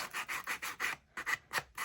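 Sandpaper rubs rhythmically against the edges of a wooden craft piece in quick back-and-forth hand strokes, about eight close, soft rasping passes with a brief pause midway.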